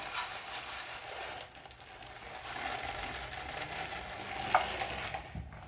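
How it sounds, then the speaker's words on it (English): Dry rice scooped with a measuring cup for an ice cream sensory bin gives a steady grainy rustle and rattle of grains, with a few sharper clicks near the end. "you're gonna take your rice. You want to measure out about a cup."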